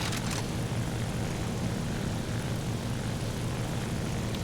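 A7M1 (NK9H) propeller fighter in War Thunder, its engine giving a continuous, even roar throughout, loud and close with no talking.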